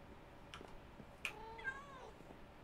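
Cats meowing in Minecraft, a few short game-style mews rising and falling at moderate volume, with no talking over them.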